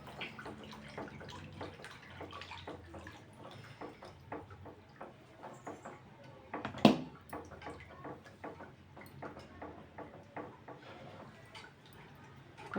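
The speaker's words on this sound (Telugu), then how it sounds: "ఇంకా ఇప్పుడైతే శనగపిండి కలిపిన పేస్ట్ ఇది ఇందులో పోసుకోవాలి." Gram flour paste is poured into a pan for pani puri at home, making a steady, close liquid pouring and splashing sound with dense small drips and one sharper splash midway.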